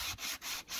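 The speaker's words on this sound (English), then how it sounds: "After that, a quick sanding and the boards were ready to use." Wooden boards are hand sanded for a small hand-tool pencil holder build, with three quick, steady back-and-forth rasping strokes, close and even, with no voices.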